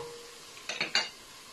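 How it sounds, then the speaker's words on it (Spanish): Chopped carrots and onion are stirred in a frying pan, giving a faint sizzle with a few quick scraping, clinking stirs of a utensil against the pan. "Y también le vamos a dar una vuelta y le vamos a sofreír aquí junto con la cebolla."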